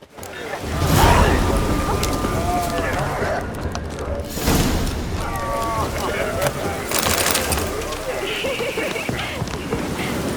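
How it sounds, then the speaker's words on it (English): Rain falls steadily in The Witcher 3, a constant wash of patter across the whole stretch, with brief louder gusts and faint background game sounds on top. "Looked like it would rain, and here it is."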